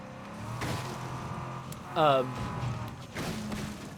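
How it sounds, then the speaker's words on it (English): A video game vehicle engine in State of Decay 2 hums steadily in the background, with a brief higher whining rev partway through, under a person talking throughout. "It feels like my engine is just revving like crazy right now."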